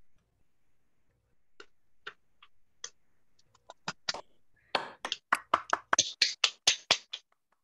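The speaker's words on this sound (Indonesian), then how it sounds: "tepuk tangan" Scattered hand claps from a small audience at the close of a lecture session, starting as a few sparse claps and then building into a sharper, more regular run of claps before stopping.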